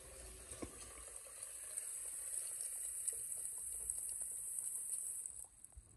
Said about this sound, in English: So you see how slow it's draining?